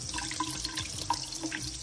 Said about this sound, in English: I'm gonna turn the water on and show you.